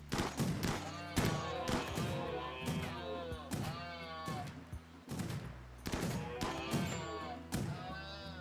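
Rapid bursts of gunfire in the Rimworld video game, repeated sharp shots in clusters, with pitched tonal sweeps riding over the shots.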